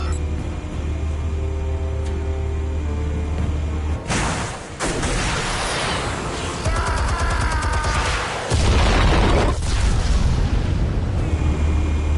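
Heavy blasts from armed explosives in Batman: Arkham Origins, a loud booming burst with crackling debris that hits suddenly, followed by a second roaring detonation, set over a steady game music drone.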